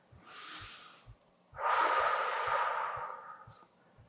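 Two deep breaths during a pilates ankle-strengthening exercise: a hissing inhale, a pause, then a longer, breathy exhale, close and clear, with faint soft ticks underneath.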